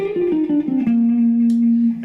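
Fast descending electric guitar run played with economy picking, notes stepping quickly downward then settling on a sustained ringing note with a slight effects-processed tone, loud and close.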